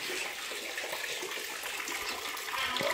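Water splashing and running as a child's face is washed, a continuous close hiss of flowing, gushing water with small splashes throughout.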